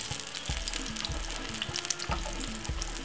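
An egg fries in a pan over raised heat, giving a close, steady sizzle with soft crackles and a few clicking taps, with no talking.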